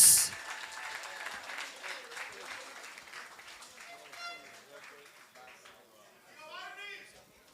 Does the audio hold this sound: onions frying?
no